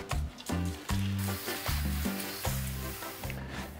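Flour tortillas frying in hot oil, a steady close sizzle with bubbling, and a series of bright clattering knocks repeating throughout.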